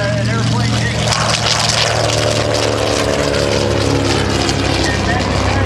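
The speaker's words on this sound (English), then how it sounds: "an airplane takes off." A WWII-era propeller warbird takes off at an air show, its engines roaring loudly and steadily with a thick, continuous drone throughout.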